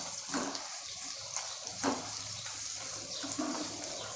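Thin coconut milk is poured into chicken curry cooking with onions, three short liquid splashing pours spaced evenly apart over a soft, constant background wash.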